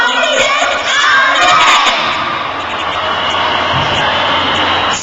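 A school audience at a Christmas Eve show at a middle school roars and cheers, a loud, dense wash of crowd noise with shouting voices that holds steady throughout.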